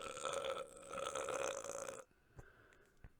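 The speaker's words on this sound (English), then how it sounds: "that was one of those frothy burps" A single long, frothy burp rumbles loudly for about two seconds, then stops abruptly, leaving quiet room tone with a couple of faint clicks.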